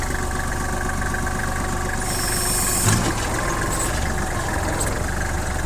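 Steady idle of a Kubota GL-21 tractor's engine, a constant close mechanical drone with a short bump in intensity midway, with no talking.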